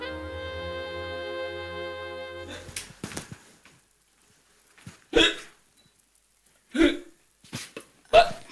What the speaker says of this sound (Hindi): मेरी हिचकियां रुक गई।